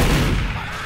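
Gunfire in a video game: a loud, dense burst of overlapping shots booms at the start and trails off into a rumbling decay within a second.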